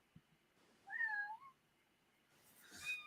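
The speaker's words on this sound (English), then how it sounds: "Oh, this cat, man, she is riled up." A cat gives a single clear, fairly close meow that rises and falls, with a second fainter cry near the end over a quiet room.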